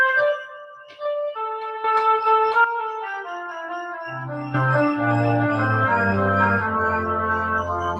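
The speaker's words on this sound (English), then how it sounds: "That is the sound of oboes and flutes." A synthesizer voices a flute and oboe melody, starting with a thin solo line and then filling out with lower sustained tones beneath it.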